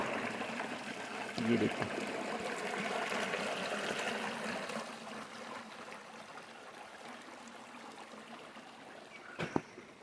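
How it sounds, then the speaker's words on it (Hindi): A river flows through the quiet mountain village of Sagori near Bironkhal, a steady babbling rush that fades a little in the second half, with a voice speaking over it and a sharp knock near the end. "शांत कल कल करती नदी बह रही है यहाँ"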